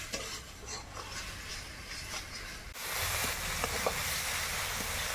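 Spatula stirring spices in a frying pan with salt and turmeric, a steady scraping and sizzling that grows louder and denser partway through, with a few small clinks near the end.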